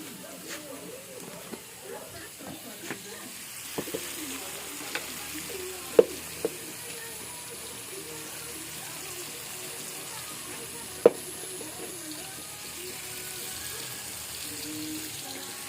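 Food sizzles in a pan as it is stirred, a low steady frying hiss broken by a few sharp clinks of a utensil on the pan, with a voice speaking faintly underneath.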